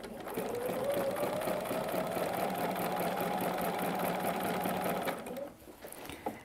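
A sewing machine runs continuously, stitching a quilt seam for a cushion, a fairly quiet, even mechanical hum that runs for about five seconds and then stops, with a few small clicks afterward.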